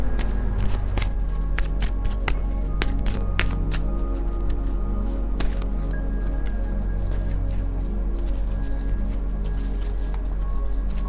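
Tarot cards are shuffled and drawn by hand: a run of crisp riffling clicks and papery slaps, denser early and sparser later, close and alone over a steady low hum.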